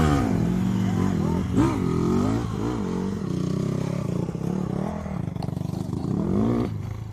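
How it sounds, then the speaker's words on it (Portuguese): A motorcycle engine labouring up a steep dirt trail, a continuous loud revving roar that rises and falls, with people shouting over it. "Vai, vira a moto."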